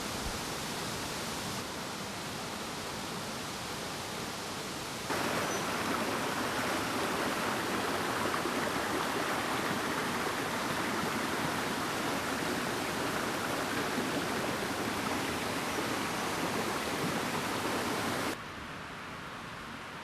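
A mountain river stream, the Villahermosa, rushes steadily down through rugged terrain, a continuous broadband roar of flowing water that swells louder midway and eases slightly near the end, with no voices.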